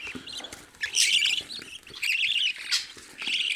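Young pet bird chicks chirp close by, bursts of high, thin cheeping that come in quick clusters with short pauses between.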